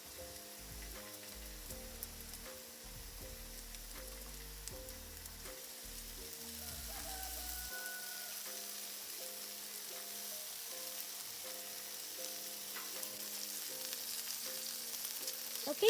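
Burgers topped with cheese fry on a hot surface with a quiet, steady sizzle, a low rumble underneath early on, then a thinner, even crackle for the rest.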